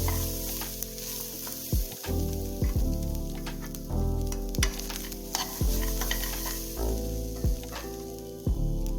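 Grated coconut and roasted peanuts being stirred in a hot pan, a steady sizzle and fry with repeated scraping strokes of a spoon against the pan, close and continuous.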